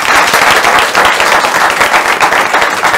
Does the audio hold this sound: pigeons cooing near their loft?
no